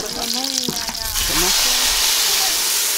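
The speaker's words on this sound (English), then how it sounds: "they're just frying up a little bit of garlic, onions, and tomatoes" Loud, steady sizzling of garlic, onions and tomatoes frying in a pan in a rural Rwandan village kitchen, with a voice talking briefly over the start before the hiss carries on alone.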